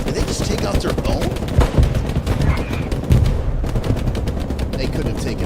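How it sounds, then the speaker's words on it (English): Rapid, loud gunfire and explosions crackle through a chaotic battle in a military video game, with sharp repeated shots and heavier booms overlapping in dense bursts, under a talking narrator. "artillery is crushing it, alternating the smoke for HE rounds"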